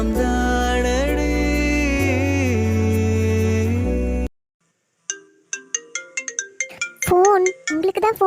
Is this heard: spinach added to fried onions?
no